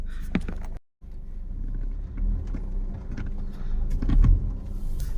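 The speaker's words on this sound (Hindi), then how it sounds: "अभी सुभाष ई रिक्शा एक रास्ते में अटक गया, तो सुभाष उसको पीछे कर रहा है" An e-rickshaw reverses after getting stuck on a narrow road, giving a low, steady electric-motor drone with a brief dropout, intermittent knocks and rattles, and a faint whine near the end.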